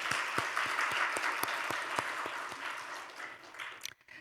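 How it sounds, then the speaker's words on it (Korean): A church congregation applauds the kitchen staff after lunch, a steady wash of clapping at moderate level with a few sharper individual claps, easing off at the end. "우리 그분들에게 박수로 화답하겠습니다."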